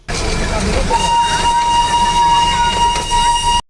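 A toy train passes right beside a car on a hillside road. A loud, close rumble is joined by a long, steady whistle tone.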